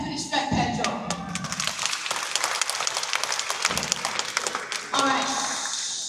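An audience at a sea lion show at Singapore Zoo claps in scattered, uneven bursts to distract the sea lion Pedro, with a person talking over the claps.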